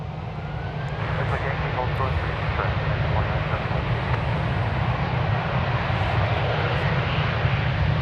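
A jet airliner roars in a steady, loud, broadband rush as it departs from DFW Airport, with no breaks or talk.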